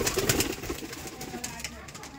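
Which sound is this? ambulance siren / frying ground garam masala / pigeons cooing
pigeons cooing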